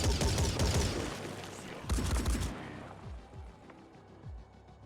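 A turret opens fire in the video game Phoenix Point, loud rapid volleys of gunfire that taper into a few scattered fainter shots and a low rumble.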